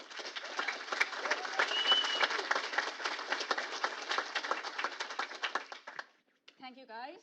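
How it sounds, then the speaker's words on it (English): A conference crowd claps for a speaker at a DevOps event, a busy, steady patter of many hands for about six seconds, then fading out as a voice begins speaking near the end. "Can you give her a huge round of applause?"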